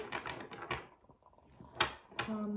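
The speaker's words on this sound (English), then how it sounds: "Just going to give these cards a bit of a shuffle." Soft papery flicks and riffles of tarot cards being shuffled close up, in a few short bursts with quiet pauses between.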